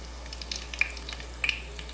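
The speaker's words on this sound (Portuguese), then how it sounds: "Aqui o bolinho já fritando." Fish and cassava balls fry in hot fat in a home kitchen. A quiet, steady sizzle runs throughout, with a few sharp pops and crackles.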